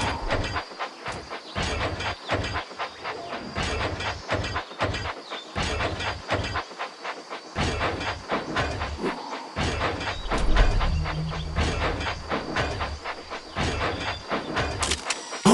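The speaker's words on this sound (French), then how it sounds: "Locomotive en approche." A locomotive from the Thomas and Friends cartoon approaches on rails, with a steady clattering, rhythmic rumble and hissing that swell slightly midway. No one speaks over it.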